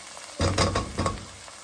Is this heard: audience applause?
no